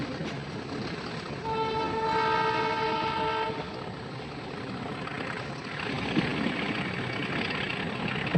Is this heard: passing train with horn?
yes